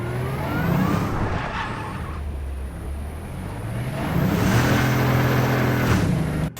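Close, loud revving of a Porsche on dirt, engine surging and holding high, then rising again as the tires spin up dirt and smoke, ending abruptly.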